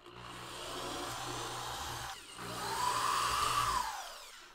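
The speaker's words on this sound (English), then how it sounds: "I'm gonna drill a couple of small little holes throughout the area just to help the epoxy penetrate even deeper" A power drill bores two small holes into the floor of a Scamp travel trailer, each a steady whirring burst of a couple of seconds, the second rising in pitch, close and fairly loud.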